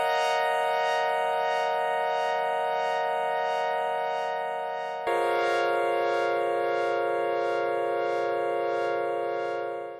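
A sustained ambient synthesizer pad with rich layered harmonics and a slow swelling shimmer on top, holding steady, shifting tone midway, then fading at the end.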